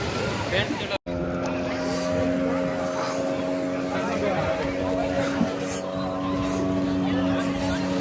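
A boat engine drones steadily throughout a boat ride at Shivrajpur Beach, Gujarat, a low humming rumble with wind and faint voices over it.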